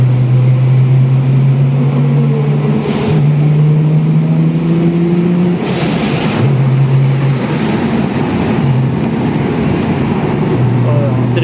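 A Nissan GT-R R32 with its RB26DETT engine drones steadily in third gear below 3,000 rpm, a loud close interior hum that rises and falls in pitch with a few shifts in throttle.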